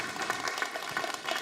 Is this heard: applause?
yes